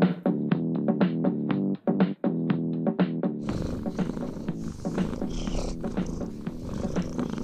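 A cat purrs in a steady rhythmic rumble, close and clear, with its breathing cycles audible, then continues under a louder, busier background in the second half.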